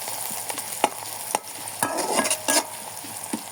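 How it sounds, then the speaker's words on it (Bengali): Onions fry in a pan with a steady close sizzle while a utensil stirs them, giving irregular scraping knocks against the pan throughout. "পেঁয়াজটা একবার বাদামি কালার করে নেব"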